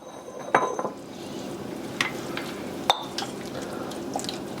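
Green chili stew with ground beef and soft potatoes is scooped from a pot, giving a few sparse, close clinks and scrapes of a utensil against the pot over a low kitchen hiss, with no one speaking.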